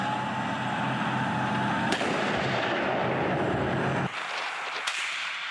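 A tank gun fires on a training range during armored-vehicle maneuvers, a sharp booming report sounding over a continuous engine rumble, then a second distant crack after the rumble drops away.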